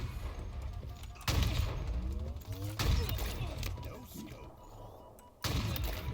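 Sniper rifle gunfire in a video game played with an IFYOO GTP 01 Pro controller: three sharp shots spaced a few seconds apart, each followed by a decaying echo, with quieter game sounds in between.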